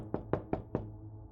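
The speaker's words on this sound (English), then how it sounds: "he raised a hand and knocked gently on the door" Four light, quick knocks land on a door in an even rhythm. They are soft and close, and a low, quiet background hum runs underneath them.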